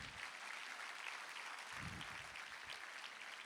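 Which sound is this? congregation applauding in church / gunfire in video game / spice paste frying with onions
congregation applauding in church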